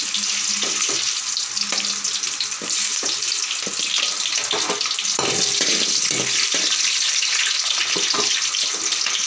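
Green chilies hit hot oil in a South Indian tempering with urad dal and garlic for pudina rice, giving a bright, constant sizzle broken by short clattering stirs and scrapes.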